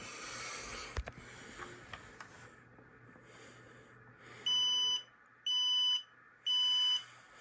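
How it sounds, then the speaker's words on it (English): Three loud, shrill electronic beeps from a talking smoke alarm being tested, in a steady rhythm, each about half a second long, coming after some soft clicks and handling noises nearby. "This one is a talking alarm"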